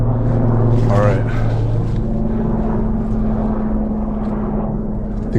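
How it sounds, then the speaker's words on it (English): A steady low drone of a helicopter or airplane passing overhead at night above a forest campsite, constant throughout, with a voice talking over it early on. "I think that was a helicopter or a plane or something up there."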